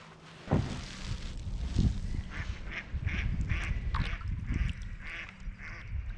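Mallard duck quacking outdoors on the water, a run of repeated raspy quacks at moderate distance over a steady ambient background.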